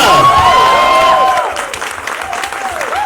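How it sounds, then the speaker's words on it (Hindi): An audience applauds and cheers at a trailer launch event. The clapping is loud and dense at first, then thins out while a voice speaks over it. "तो एक बार जोरदार तालियां"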